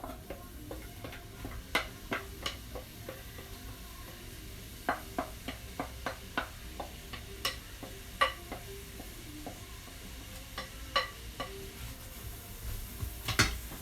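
Onions for Indian dahl stirred in a warm pan, a spoon scraping and knocking against the metal in irregular strokes over a faint steady sizzle, with sharper clicks scattered throughout and no talking.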